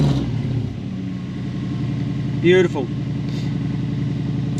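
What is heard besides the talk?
Toyota 1UZ non-VVTi V8 engine idling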